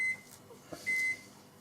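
A kitchen microwave oven at full power finishing a one-minute cycle of melting butter gives two clear electronic beeps, the second longer, close and fairly quiet in an otherwise still room.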